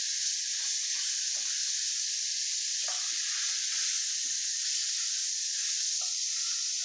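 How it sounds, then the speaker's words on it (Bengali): Steady, loud sizzle of food frying in oil in a covered pan, a continuous bright hiss with faint stirring clicks underneath, no voices. "আর একটু তেল দিয়ে দিলাম। হালকা ঢেকে ঢেকে ভেজে নেব।"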